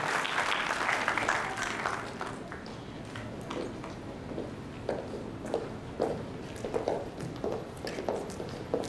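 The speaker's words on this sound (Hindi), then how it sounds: "आप सबकी भरपूर तालियों में हिना निसार सरवई" Applause greets a speaker at a growth summit talk, starting as full clapping that thins out within a few seconds into scattered individual claps and taps.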